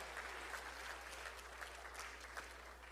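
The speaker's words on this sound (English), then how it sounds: "Please give them a big round of applause to all of our priests and our temple staff." Faint, distant audience applause for temple priests and staff at a Hindu temple's 25th anniversary celebration, a dense even patter of many hands with a low steady hum beneath.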